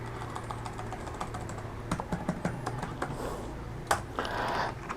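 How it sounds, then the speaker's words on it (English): Fingers tapping out a password on an HP Omen 15 laptop keyboard, a quick close run of light clicky keystrokes with short pauses and no voices. "I'm going to go and type in my password"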